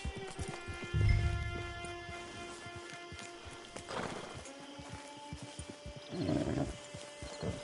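A horse in Red Dead Redemption Online clops its hooves, gives a couple of snorts and a whinny, and shuffles about at moderate distance amid quiet game ambience.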